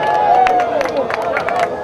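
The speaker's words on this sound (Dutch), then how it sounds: "Leuk applaus." A crowd at an evening contest in Vinkeveen claps and cheers for an entry, with steady lively applause mixed with voices and babble throughout the short burst.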